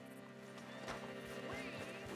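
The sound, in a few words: horse hooves clip-clopping in Red Dead Redemption II video game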